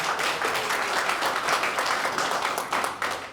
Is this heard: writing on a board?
no